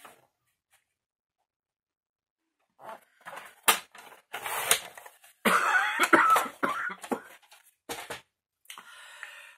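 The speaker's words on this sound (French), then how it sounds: "J'en ai marre de cette toux, elle me fait mal." An adult with a persistent, painful cough coughs close by in a series of harsh, irregular bursts that break in after a few seconds of silence and keep going to the end.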